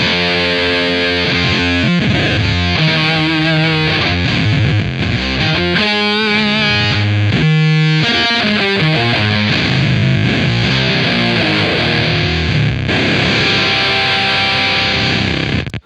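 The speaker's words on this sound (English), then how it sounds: "So you can hear that movement from the distortion side to the octave side." Heavily distorted electric guitar through a Beetronics Zzombee Filtremulator pedal, loud and continuous, its tone gradually shifting from gritty fuzz toward a thinner, octave-doubled sound as the filter sweeps across.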